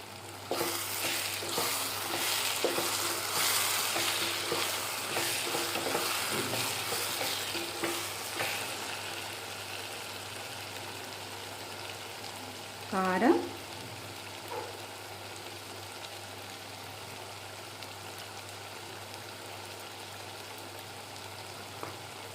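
Spices stirred and frying in a pan for an Andhra-style egg and broad bean curry, a steady low sizzle running throughout with soft scraping stirs, one louder clatter near the middle, no speech.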